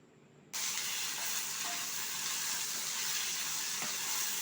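Onions and tomatoes frying in a pan for a tiffin-centre style onion-tomato chutney: a steady, close, loud sizzle and hiss that switches on abruptly after a brief quiet moment and continues evenly, with faint stirring.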